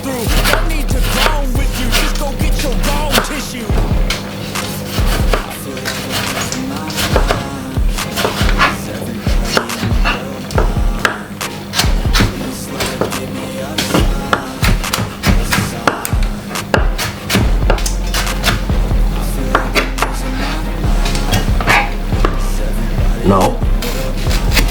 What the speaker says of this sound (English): Cut up the tomato into some small dices like this.